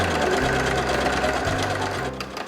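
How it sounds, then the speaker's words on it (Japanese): Sewing machine running gathering stitches along the waist of a patchwork skirt, a loud close whirring chatter that speeds up briefly, then stops after about two seconds. "ウエストにギャザーミシンを2本入"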